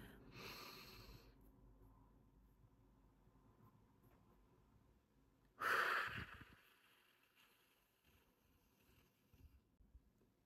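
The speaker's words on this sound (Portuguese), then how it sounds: "essa é a respiração diafragmática" Diaphragmatic breathing with a slow inhale, brief hold and long exhale: a soft airy breath at the start, a quiet stretch, then a louder rushing exhale burst midway, fading to near silence.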